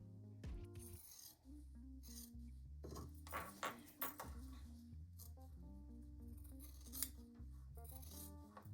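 Scissors trimming the fabric seam corners of a zippered pouch give a few quiet, scattered snips and rustles close by, over a steady low hum of tones.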